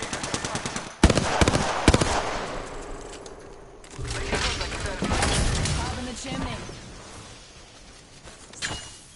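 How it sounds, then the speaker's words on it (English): Video game gunfire in a battle royale match: bursts of rapid automatic shots and single cracks early on, then a dense stretch of loud firing and explosions, with a voice talking over parts of it. "I'm getting shot at. Taking fire."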